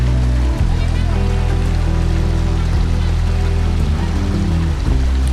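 Water flowing near the Maithon Dam temple, a steady broad rushing wash under a low rumble, continuous and fairly loud, with a voice speaking briefly over it.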